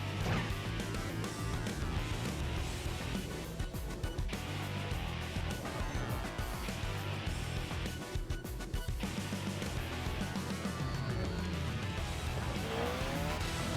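An NA Mazda Miata races in Tokyo Xtreme Racer, its engine droning steadily with scattered tyre squeals and crash-like thumps, everything loud and dense under a continuous game soundtrack.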